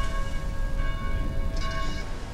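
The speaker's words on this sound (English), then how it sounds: "Please help us silence these bells." Church bells at St. Christopher's Church in the video game Dead Island ring with sustained, layered metallic tones under a low rumble, with a brighter strike near the end.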